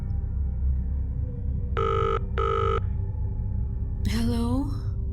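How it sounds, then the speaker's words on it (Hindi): A telephone rings twice in a horror story, two short buzzing rings close together over a low background hum, followed by a brief swooping electronic effect. "आइलीन ने अपनी रूममेट लीसा से कांटेक्ट करने की कोशिश की, मगर वो उसका फ़ोन ही नहीं उठा रही थी।"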